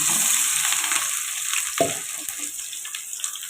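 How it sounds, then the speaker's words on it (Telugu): Green chillies and onions sizzle in hot oil in a kadai, a steady close crackle that eases slightly over time, with a brief stirring scrape partway through. "వీటిని కలుపుకుంటూ ఫ్రై చేసుకున్నాం"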